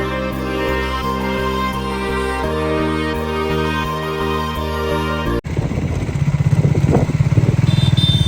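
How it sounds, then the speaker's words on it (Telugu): A motorcycle on the road to Kondaveedu Fort near Guntur, Andhra Pradesh, comes in after a musical opening, with a close, steady engine drone and clattering rumble that holds for the last few seconds. "మేము బైక్ మీద వెళ్ళాం."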